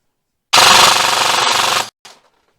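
An airsoft gun fitted with a T238 budget brushless motor fires a rapid full-auto burst of about 1.4 seconds, loud and close, with a brief gap mid-burst and a short second burst after it.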